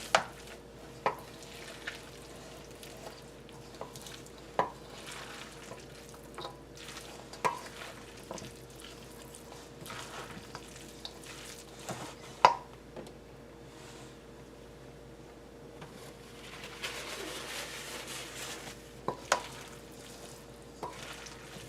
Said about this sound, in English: Just get all that egg in with the spaghetti and get the ham all